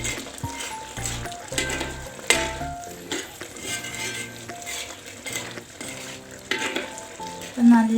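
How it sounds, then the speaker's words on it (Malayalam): A thick cauliflower and potato masala gravy bubbles and sizzles in a pan, with steady frying crackle, occasional stirring scrapes and a few utensil clinks, close and moderately loud throughout, with no voices. "നന്നായി തിളച്ച് കുറുകി വരുന്നുണ്ട്."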